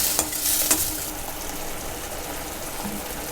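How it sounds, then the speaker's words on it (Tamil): Sliced onions sautéing in an oiled pan for a Tamil-style fish curry, a steady close sizzle with a couple of sharp stirring clinks early on. "இப்போ வெங்காயம் நல்லா வதங்கிடுச்சு."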